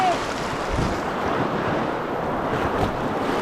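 A waterfall on the Buffalo River gives off a loud, continuous rushing hiss, heard from a kayak. Wind buffets the microphone on top of it, and no voices are clear.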